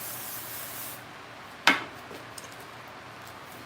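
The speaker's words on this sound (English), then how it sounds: "take my Sebastian and I'm going to start at the back of the head" Sebastian hairspray hisses onto hair at the back of the head in a brief airy burst, followed by a single sharp click and a few faint handling sounds.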